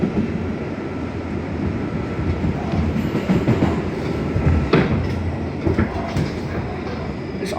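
An R211A D subway train rolls out from Coney Island Yard toward Kings Highway, with a steady loud rumble, rail noise and repeated clickety-clack joint impacts heard from on board, with no talking.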